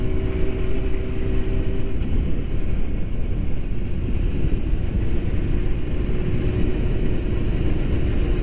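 Motorcycle riding along, a steady engine drone and road rumble with constant wind noise, continuous and close, no talking.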